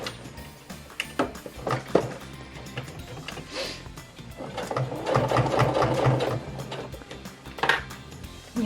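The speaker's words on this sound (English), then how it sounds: "sewing down the middle of your elastic." A sewing machine stitches down the middle of baby elastic in short bursts, its rapid mechanical whir starting and stopping, with a longer steady run in the middle and a few handling clicks between.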